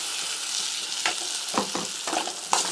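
Ground paste and tomatoes sauté in a pan with a steady close sizzle, broken by several distinct scraping stirs of a spoon.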